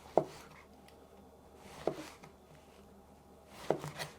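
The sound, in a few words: knife chopping zucchini on cutting board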